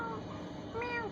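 A person imitates a cat's meow with their voice, a short rising and falling mew standing out over a steady background of room noise.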